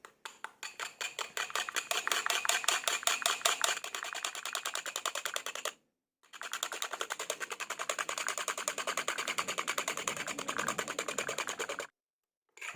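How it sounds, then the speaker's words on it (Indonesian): Homemade nectar mixture made without syrup is whisked until smooth, a fast steady clicking of a whisk against a bowl in two long stretches with a short pause between them. "kita kocok lagi hingga merata"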